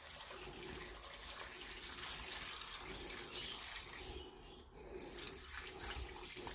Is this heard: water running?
yes